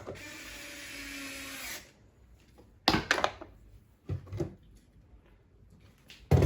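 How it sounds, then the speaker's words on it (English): A Saeco Philips coffee machine with a serviced brew unit runs for a couple of seconds with a steady mechanical whir, then falls into a series of clunks, clicks and rattles from its moving parts, close by and with no talk. "Now we will start our machine and test how it make our coffee"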